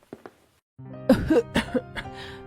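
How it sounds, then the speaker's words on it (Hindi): A few faint breaths, then a series of harsh, close coughs, about four or five in a ragged rhythm. "धीरे धीरे चलकर खांसते हुए"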